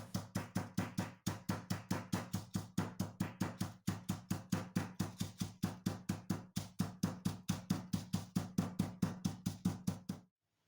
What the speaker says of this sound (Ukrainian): накриваю серця іншою частиною пакета та легенькими рухами відбиваю сердечка